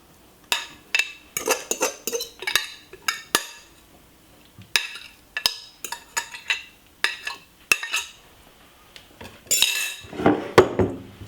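A spoon scraping cucumber and red onion salad with dry red chilli out of a bowl, a run of sharp metallic clinks and scrapes in irregular bursts, close and alone with quiet gaps between strokes.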